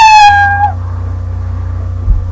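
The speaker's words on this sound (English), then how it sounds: "Until done, it'll play the sound meow." The Scratch programming meow cat sound effect plays once, a single short bright meow that cuts off abruptly, leaving a low steady hum and a faint click.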